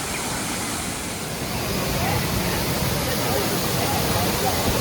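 Water rushes down from the hills near Dhangar Waterfall in Badlapur, a constant, full broadband roar of flowing water that stays close and steady throughout with no pauses.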